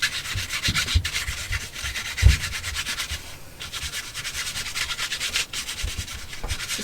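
Ink rubbed across crinkled brown paper, making a close, steady rasping scrub of repeated strokes with a few heavier thumps, no voices.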